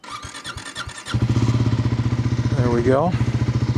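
A 2026 Triumph 400 XC motorcycle with the 400 series TR single engine cranks with a rhythmic starter chug, then fires into a loud, close, steady thumping idle with a brief rev; someone speaks briefly.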